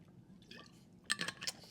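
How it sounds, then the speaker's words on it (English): A person sipping milk, a short wet slurp and swallow close to the mic, a faint soft sound first and then a brief cluster of liquid sips, with no talking. "I'm going to sip some milk as I explain this."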